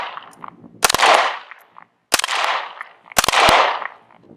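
A Canik TP9SF Elite pistol fires 9mm rounds outdoors at a range: three loud, sharp shots about a second apart, each trailing off in a long echoing decay.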